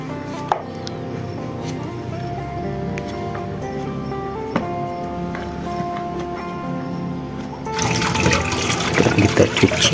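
Taro stems being washed in water, with clattering handling, knocks and splashes, followed by a louder rush of running water in the last couple of seconds; no talk.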